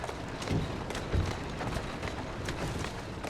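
Horse hooves clip-clop in Assassin's Creed Syndicate, a steady run of soft, muffled hoofbeats under a constant game ambience, with a couple of heavier thuds standing out.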